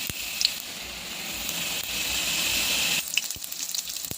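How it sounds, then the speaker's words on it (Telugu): Ten garlic cloves hit hot oil for a tempering, giving a steady, close sizzle with a brief spatter near the start and another burst about three seconds in. No one speaks. "ఆయిల్ హీట్ ఎక్కింది. 10 వెల్లుల్లిపాయలు వేసుకుందాం."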